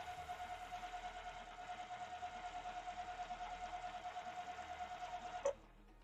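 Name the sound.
sewing machine stitching a pinwheel quilt block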